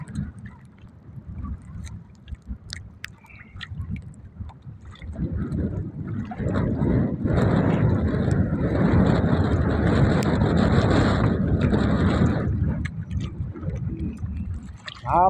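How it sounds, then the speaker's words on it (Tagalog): Northeast monsoon wind sweeping across Manila Bay off Navotas beside a fishing boat, a low rushing roar that swells to a loud sustained blast midway, then eases, with no talk. "Bagay ang hangin naman po amihan"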